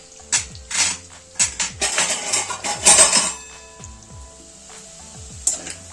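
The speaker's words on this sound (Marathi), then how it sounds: "आता याच्यावर झाकण ठेवू." A lid clatters onto a pan of sweet potatoes frying in ghee, in a few metallic knocks and scrapes, with a faint sizzle underneath.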